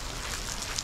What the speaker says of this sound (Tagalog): nalibutan na ng ulan.